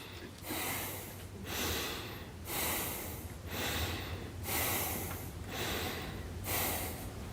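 A man demonstrates heavy, deliberate breathing during a talk, drawing about six slow, loud breaths at a steady rhythm, close to the microphone, with no words spoken.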